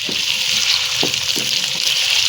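Mutton fries in a pan with a steady, close sizzle, broken by a few soft knocks of stirring.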